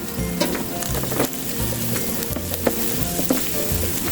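Sliced bitter gourd fries with chopped onions in a pan, giving a steady, close oil sizzle. Scraping and clinking stir strokes repeat throughout, with no talking.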